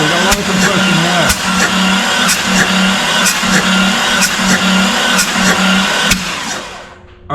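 A car engine cranks over on the starter during a compression test, a loud, steady churning whir with a regular pulsing beat for several seconds before it cuts off.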